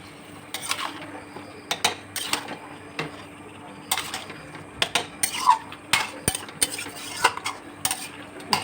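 Meat being stirred in a metal cooking pot, with repeated scraping and clinking of the spoon against the pot in uneven bursts, close and fairly loud, with a faint sizzle underneath and no talking.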